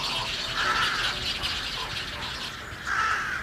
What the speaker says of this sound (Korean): 까마귀 떼와 철새들도 찾아왔습니다.